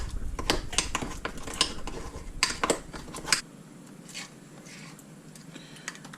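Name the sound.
mixing soft butter in a bowl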